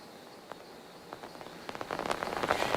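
Heavy rain falls steadily in a soft, distant wash, with scattered drops tapping a surface and growing denser and louder toward the end.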